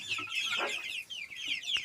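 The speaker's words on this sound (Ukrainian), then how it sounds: "Ось тут середня група курчаток." Young chicks in a farmyard cluck and cheep in quick bursts, close and moderately loud, with one brief sharp note near the end.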